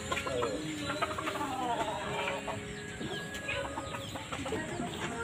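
Chickens cluck and call in a busy farmyard, with bird sounds layered over steady background noise and no clear talking.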